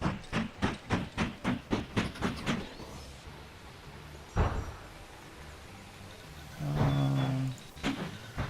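Train rolling on rails in the video game Mashinky, rhythmic clickety-clack wheel beats at first, then quieter rumbling with a few clunks and a tonal hum near the end.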